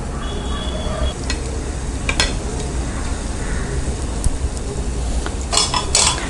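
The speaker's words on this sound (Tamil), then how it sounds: "நல்லா சூடு பண்ணிவிட்டு டீப் ஃப்ரை பண்ணிக்கலாம்" Kandhar appam batter deep frying in hot oil on a low flame, a continuous bubbling sizzle with occasional metal clinks of a ladle against the pan.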